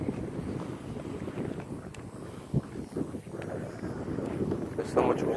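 Wind gusting across an open golf course pond, a continuous low buffeting rumble close to the microphone, with occasional louder thumps and faint background voices.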